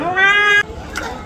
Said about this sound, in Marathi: रात्रीची वेळ दोन मांजरे कशी भांडतात ऐका.